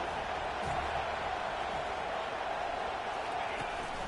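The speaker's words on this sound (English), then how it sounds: "This crowd bringing the energy and noise early" Dense stadium crowd roar at a Georgia football game, a steady loud wash of voices filling the whole stretch without pause.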